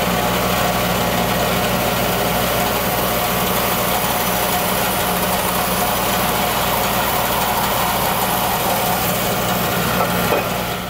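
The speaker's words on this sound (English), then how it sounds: "I will also take this to the bandsaw and nip the rest of this wood off" A bandsaw cuts through heavy, dense Bocote wood with a loud, steady droning roar and constant vibration, with no talking over the cut.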